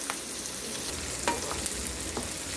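Small onions soften in a hot pan, a steady close sizzle with a few quick stirring scrapes and ladle taps, no voices.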